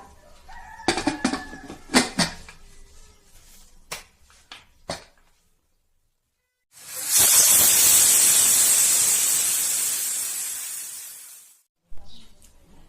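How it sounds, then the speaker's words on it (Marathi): A pressure cooker lid lets out one loud sustained hissing whistle lasting several seconds. Scattered clatter and clicks come before it, and no one speaks. "आता आपण कुकरचे झाकण लावून 3 शिट्ट्या होऊन देऊया"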